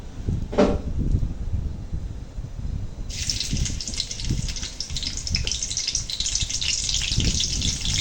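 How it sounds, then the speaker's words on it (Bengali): Onion, whole garlic and green chili drop into hot oil for a chicken chana masala. A bright, hissing sizzle surges a few seconds in and holds steady over low kitchen rumble and clatter, with no speech. "এখন দিয়ে দেবো সামান্য পেঁয়াজ দুটো গোটা রসুন আর একটু কাঁচা ঝাল দিয়ে এটা সুন্দর করে ভেজে নেবো"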